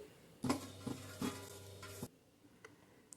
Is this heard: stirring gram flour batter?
yes